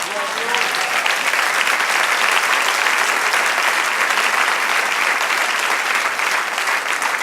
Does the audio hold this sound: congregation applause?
yes